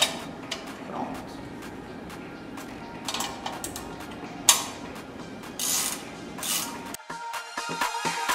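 A mount underneath a pole is tightened while fixing an outdoor off-grid enclosure, giving close, scattered metallic clicks, creaks and knocks of fittings and tools at moderate level, with a few sharper taps near the end.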